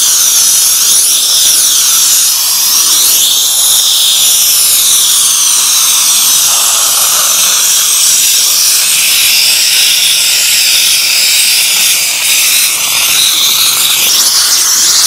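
A steam cleaner works upholstery alongside a brush spun by a cordless drill, making a loud, unbroken hiss with a high mechanical whine that runs without pause for about fifteen seconds, with no talking.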